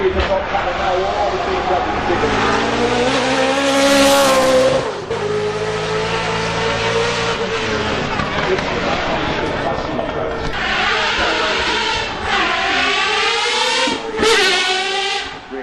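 A Lamborghini race car with a 5.2 litre naturally aspirated V10 accelerates hard, loud rising revs with several gear shifts and a brief drop-off, as a commentator speaks throughout.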